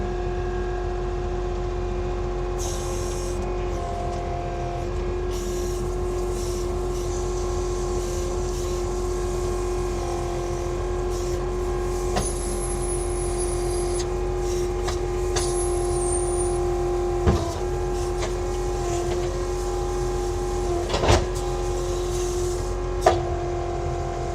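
A truck delivering a pile of gravel at a construction site, a steady low engine drone with a constant hum throughout, occasional faint clanks and a few brief high squeals, heard from a moderate distance without speech.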